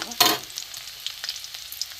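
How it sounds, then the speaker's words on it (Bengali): Chopped garlic sizzles and crackles in hot oil after a sharp burst at the start, with small pops scattered through the quiet that follows. "রসুন ফাটছে"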